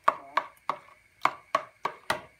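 A spoon stirs a spiced chicken sauce in a bowl, giving about seven sharp, evenly spaced knocks and scrapes against the bowl, close and fairly quiet, with no talking.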